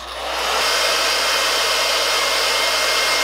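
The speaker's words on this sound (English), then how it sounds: "So then I just use my blow dryer on hot this time." A blow dryer on the hot setting, drying a wig, starts up and then holds a loud, steady, close whoosh without a break.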